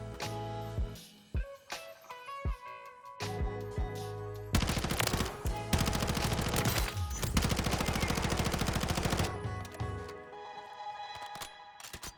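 A new SMG fires in Modern Warfare III gameplay: scattered single shots give way to long rapid automatic bursts that rattle loud and dense before easing into a few sparse reports.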